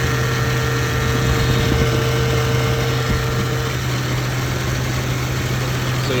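A 1988 Toyota Land Cruiser FJ62 idles steadily on a cold morning after a cold start, its engine a constant drone with a faint whine from the power steering pump running underneath.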